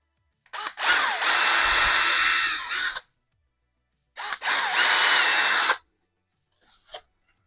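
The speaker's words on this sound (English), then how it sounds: "We're drilling it right at the end of that little rib right there" A power drill bores holes into an RC truck steering block, two whining bursts of about two and a half and one and a half seconds, close and loud, followed by faint small clicks in silence.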